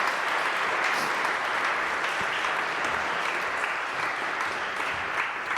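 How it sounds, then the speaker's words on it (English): An audience applauds two panelists after a conversation on elite power and change with Bill McKibben, sustained dense clapping that stays even for several seconds. "I'd love to have a round of applause for our two panelists."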